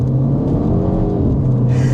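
A 2026 MINI John Cooper Works accelerates hard, its engine droning in a steady, loud, close hum with a whirring edge that brightens near the end.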